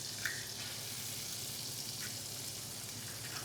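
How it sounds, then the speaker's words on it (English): Freshly cracked eggs fry in a pan with a faint, continuous crackling sizzle and a couple of small clicks, fairly quiet and without speech. "I'm actually going to let them fry for just a second."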